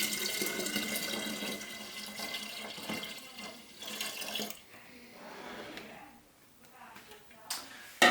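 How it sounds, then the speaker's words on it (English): Dissolved spray malt wort for a saison is poured into a Pinter home-brewing keg: a steady splashing rush of liquid for about four seconds, then thinner trickles and a few small clunks near the end. "I'm now going to pour this into the pinter."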